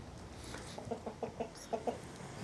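A flock of backyard chickens led by their rooster gives a run of short, close clucks in an evenly spaced series over a low farmyard background.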